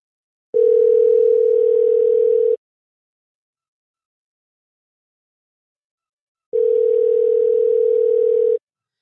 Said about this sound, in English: can you guys hear that? Can you hear the phone?